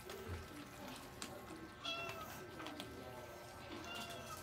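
Hungry cats and kittens meow over and over at close range while being fed, calls overlapping in a busy, noisy scene with a person talking throughout.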